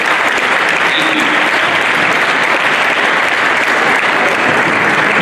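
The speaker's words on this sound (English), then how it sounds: "the chairman of this occasion deserves another round of applause" Loud, sustained applause from a large audience, continuous clapping at an even level throughout.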